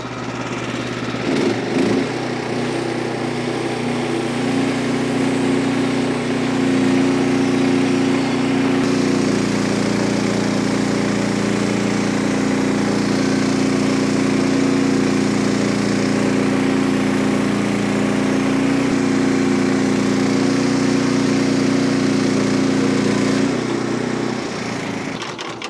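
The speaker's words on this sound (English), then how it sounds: "if you get the OS23 with a big engine, it definitely pulls through this heavy oak stuff" A Frontier OS23 sawmill's engine runs under load as it cuts through a heavy, oversized oak log, a steady loud drone holding for over twenty seconds with an abrupt start and stop at either end.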